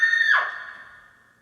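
A person imitates a scream with a single high, strained vocal cry that bends downward and trails off over about a second, heard alone without other sound.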